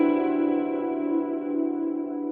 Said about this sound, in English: It is such a wonderful plate style reverb.